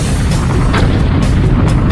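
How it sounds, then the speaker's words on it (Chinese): A cartoon time-bomb toilet explodes in a loud, dense blast of rumbling noise that fills the full two seconds, with a few sharper bursts inside it. "原来这个发明就是定时炸弹马桶，超过5分钟就会爆炸"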